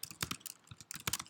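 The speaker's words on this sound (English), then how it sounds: "I'm just hitting tab on my keyboard" Computer keyboard keys are tapped in quick irregular bursts, close and crisp, with short pauses between clusters of clicks.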